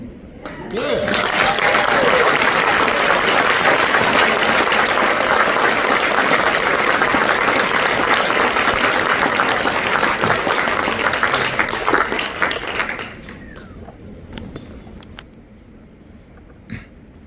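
Loud, sustained applause from a crowd for about twelve seconds, then fading into quieter room noise with scattered claps.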